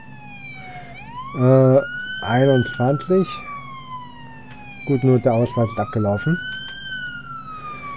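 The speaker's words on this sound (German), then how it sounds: "Kann der mal aufhören mit seiner Sirene," A wailing police car siren in the Police Simulator video game rises and falls in long sweeps throughout, droning under a conversation in German between an officer and a driver during a traffic stop.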